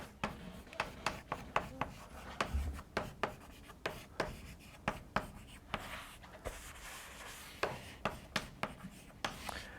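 Chalk or marker scratches across a lecture-hall board in quick repeated strokes, short bursts with brief pauses, fairly close and alone with no talk over it.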